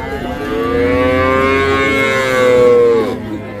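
A calf at a cattle market gives one long, drawn-out moo lasting about three seconds, loud and close, with faint crowd noise behind it.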